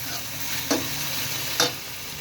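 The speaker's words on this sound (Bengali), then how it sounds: "এই যে আলুটা ভাজি হচ্ছে" Potatoes fry in hot oil for breakfast, a steady close sizzle with two brief louder hisses as the pan is stirred, and nobody talks.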